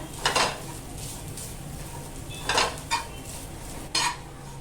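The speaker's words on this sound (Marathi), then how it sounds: "ओलं खोबरं पण ना छान असं गुलाबी होईपर्यंत भाजूया" Grated fresh coconut being dry-roasted in a pan for Malvani egg curry, heard as a few separate scraping, clinking stirs of a utensil against the pan over a low steady background, with no talking.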